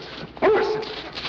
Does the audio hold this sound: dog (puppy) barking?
yes